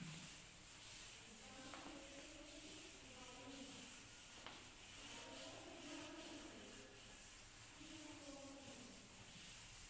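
Writing being rubbed off a classroom board, a faint, soft scrubbing in repeated strokes over a steady low background hiss, with no talk.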